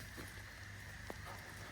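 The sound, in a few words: rain starting to fall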